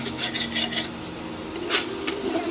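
A spatula scrapes and rubs through fish kofta masala in a pan, with repeated close scraping strokes over a low frying sizzle.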